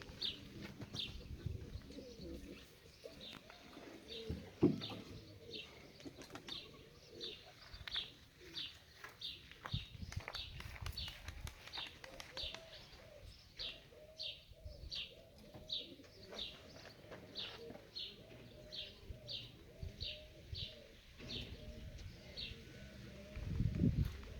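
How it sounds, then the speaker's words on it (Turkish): Pigeons coo repeatedly in low, soft calls with occasional chirps and brief wing flaps, fairly quiet and spread across a long stretch with a few faint background knocks. "gördüğünüz gibi kuşlar bak kendi kendilerine uçtuğu zaman"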